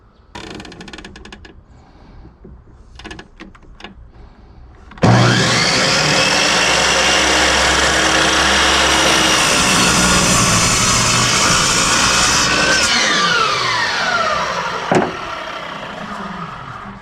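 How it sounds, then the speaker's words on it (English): A power drill boring pilot holes into wooden decking for a private dock, a loud, steady whirring drone lasting about ten seconds before winding down, preceded by scattered knocks and handling. "I'm going to pre-drill 2 holes in each end of each piece of wood"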